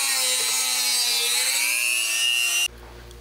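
A Dremel rotary tool cuts plastic parts for an RC Ford F-150 FX4 roll bar and chase rack, giving a steady high-pitched whine that holds for nearly three seconds and then cuts off abruptly.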